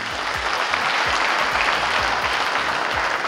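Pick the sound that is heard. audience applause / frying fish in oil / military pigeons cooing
audience applause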